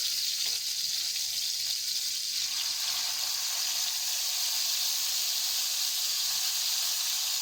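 Chicken pieces for Afghani boti sizzle in hot cooking oil over a medium flame, a steady close-up frying hiss with faint crackles and no talking.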